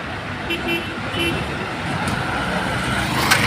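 Traffic on the Tiruppur–Erode toll road, a continuous rumble of many vehicles passing with a few short horn toots, heard under someone talking.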